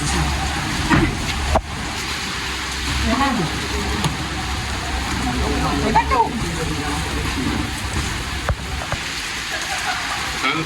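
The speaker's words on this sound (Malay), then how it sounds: "Hujan lebat." Steady hiss of heavy rain pouring down on a fishing raft at sea, loud and constant, with people talking beneath the downpour.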